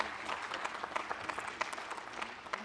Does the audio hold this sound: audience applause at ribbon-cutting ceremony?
yes